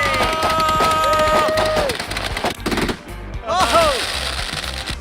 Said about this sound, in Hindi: मैंने बस रैंडम पटाखे खरीदे थे